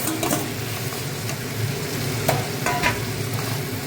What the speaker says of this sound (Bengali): ভাজাটা কষছি, ফুলকপিটাও ভাজা আছে